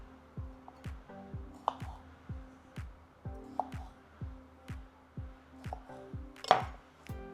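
A knife cuts tomatoes in half on a chopping board, steady repeated thuds roughly every half second, close and clear with a brief clatter near the end.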